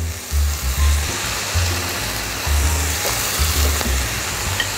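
Chilies sizzle and fry on a Korean BBQ grill, giving a steady crackling hiss with low rumbling pulses underneath and nobody talking.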